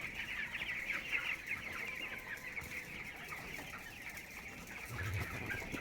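Broiler chickens on a farm cluck and chatter in a continuous soft, distant flock murmur with a few sharper calls rising from the background.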